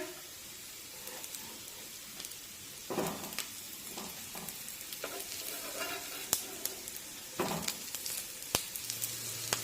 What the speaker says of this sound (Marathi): आता लो टू मीडियम फ्लेमवर दोन ते तीन मिनिटे हे पॅनकेक आपण व्यवस्थित भाजून घेऊया